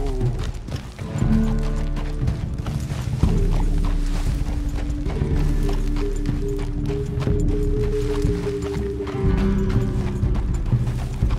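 Horse hooves clip-clop steadily at a riding pace in the video game Red Dead Redemption 2, with a thick bed of music and ambience throughout.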